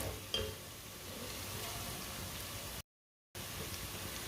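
Garlic fries in a pan for aloo palak, making a steady close hiss and crackle with a faint clink early on and a brief dropout of silence midway.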